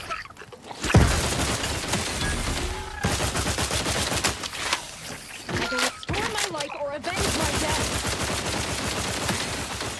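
Rapid gunfire rattles almost without a break in The Outer Worlds 2, with a heavy grenade blast near the start. A voice talks over the shooting.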